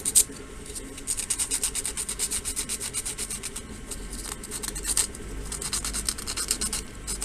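Sandpaper rubs back and forth over hardened tissue paper stiffened with super glue on a controller holder, a close, steady, rasping scratch in quick repeated strokes with no talking.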